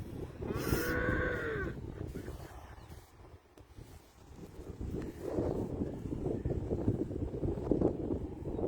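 A cow gives one low, drawn-out moo near the start at a cattle futurity, over steady wind rumble buffeting the microphone, with faint voices and outdoor noise afterward.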